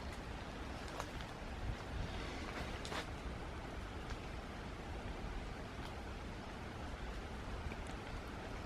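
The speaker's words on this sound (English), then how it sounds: "And that water sound does roar." Steady broadband roar of rushing stream water along a winding autumn footpath, continuous and even throughout, fairly faint with no distinct events.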